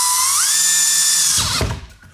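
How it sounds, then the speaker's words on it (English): A power drill spins a hole saw at a steady high whine that rises in pitch, then bogs down and grinds as it cuts and jams, ending in a brief rattling stop, loud and close. "I hate how hole saws get jammed up."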